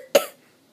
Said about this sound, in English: I'm not sick. Just coughing.